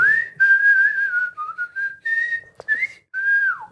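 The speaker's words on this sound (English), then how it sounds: "I am good at teeth whistling" A person whistles through their teeth, a clear, close, tonal whistle in a string of short sliding notes with small pauses, alone with no talk.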